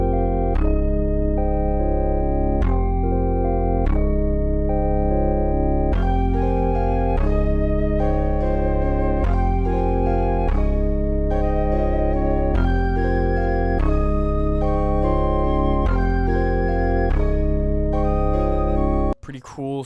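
A melodic jersey club beat built in FL Studio plays loud synth chords in punchy, regularly repeating stabs with bass underneath, then cuts off abruptly at the end.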